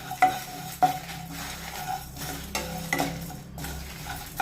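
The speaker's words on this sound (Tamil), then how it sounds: "கொஞ்சம் வெந்தயம். இது வறுத்து ரோஸ்ட் பண்ணணும்." Fenugreek seeds roast in a pan with a light crackling sizzle and stirring, punctuated by a few sharp clinks of a spoon against the metal, close and fairly quiet, with no talking.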